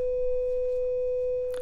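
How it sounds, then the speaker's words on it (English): A pure, steady synthesizer sine tone holds at one pitch, with faint background noise and a brief burst near the end. "that sine wave actually sounds like this"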